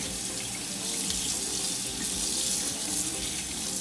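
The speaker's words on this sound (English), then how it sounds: "Once you're done peeling the ginger, wash it under some running water to remove any pieces of loose skin." Peeled ginger root rinsed under a running kitchen tap, a steady, close, full-bodied rush of water splashing into the sink without pause and with no voices.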